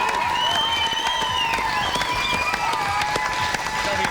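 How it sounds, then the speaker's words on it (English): Studio audience gives a big round of applause for a guest band on a Brisbane radio show, dense steady clapping with some cheering held loud across the whole stretch, with no speech over it. "Give a big round of applause"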